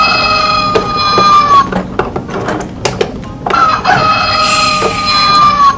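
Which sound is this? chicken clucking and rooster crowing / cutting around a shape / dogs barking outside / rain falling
chicken clucking and rooster crowing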